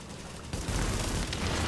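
Rapid gunfire in the video game The Division, a dense continuous burst of shots that erupts halfway through and stays loud to the end.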